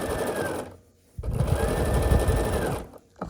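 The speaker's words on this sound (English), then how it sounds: "just sew a full 1/4 inch, and you shouldn't have any problems." A sewing machine stitches a quilt block seam in two steady motor runs, close and loud, separated by a brief pause.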